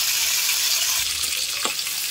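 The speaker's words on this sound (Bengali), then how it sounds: "চিংড়ি মাছটা একটু ভেজে নিতে হবে।" Shrimp frying in hot oil in a pan for a Bengali pointed gourd and shrimp dish: a close, constant hiss and crackle of sizzling, with a faint clink near the end and no talk.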